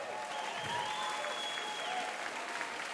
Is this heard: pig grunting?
no